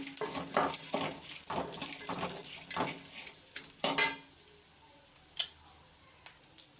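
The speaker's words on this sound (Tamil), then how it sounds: "இப்போ தேங்காய் ஆட் பண்ணிக்கலாம். கொஞ்சம் பொன்னிறமாக வதங்கட்டும்." Grated coconut sautés in a pan as a utensil scrapes and stirs it in quick rhythmic strokes over a soft sizzle, then settles to a few scattered taps.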